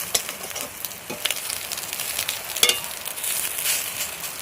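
Soft, crackling sizzle of an egg frying in a pan, with a few scraping stirs and light clatters, fairly quiet and close.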